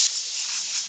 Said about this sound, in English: I'm just going to use the airline to blow out all the Yorkshire grit from